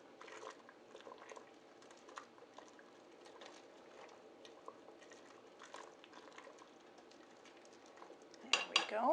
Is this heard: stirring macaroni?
yes